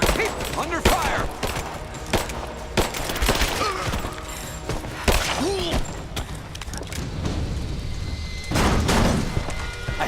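Bursts of gunfire from a firefight in the video game Rise of the Tomb Raider, dense rapid shots and impacts mixed with clanks and shouting voices throughout.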